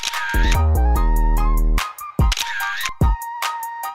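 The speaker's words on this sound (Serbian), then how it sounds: "ona kamera pravi 4 slike odjednom" A camera that fires four photos in one go, near and loud, with an opening burst of rapid clicks giving way to a sustained mechanical whir. Several more sharp shutter clicks follow in quick succession.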